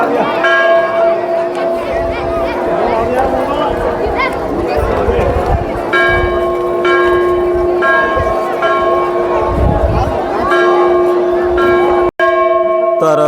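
A temple bell at the Anusuiya temple in Chitrakoot rings repeatedly with long sustained metallic tones, heard close amid crowd chatter and footsteps, with people talking throughout.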